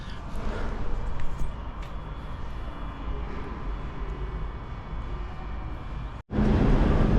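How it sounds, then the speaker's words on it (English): London Underground Piccadilly line train bound for Uxbridge passing, a steady loud broadband rumble and roar that holds for several seconds before cutting off abruptly. "There goes the Uxbridge train."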